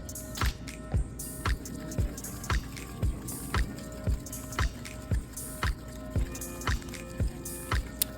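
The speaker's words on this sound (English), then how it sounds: "Now let's add in our 2 teaspoons of vanilla extract, 1 teaspoon being vanilla extract and 1 teaspoon being vanilla bean paste." Vanilla extract and vanilla bean paste poured into a chocolate chip cookie batter, heard as a steady series of soft drips and wet squishes, close and quiet, with no talking.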